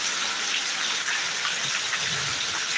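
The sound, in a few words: heavy summer rain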